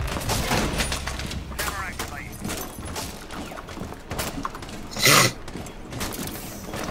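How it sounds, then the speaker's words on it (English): Gunfire in Rainbow Six Siege during a Kafe TDM Bomb match, scattered shots and bursts running throughout under heavy game noise, with one sharper, louder crack near the end. "They're shooting through that window, be careful."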